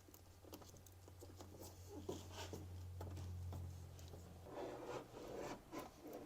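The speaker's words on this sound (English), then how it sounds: "Just trying to apply good smooth pressure along the full length of the tape." Screwdriver handle rubbed firmly along butyl tape pressed onto metal, a continuous soft scraping and rubbing with faint patter, close and quiet over a low hum.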